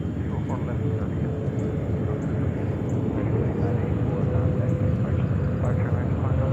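Jet airliner taking off from runway 4 left at JFK airport in New York, a steady, loud broadband engine roar sustained throughout, with no talk over it.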